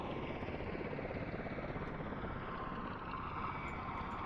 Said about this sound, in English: It's a loud plane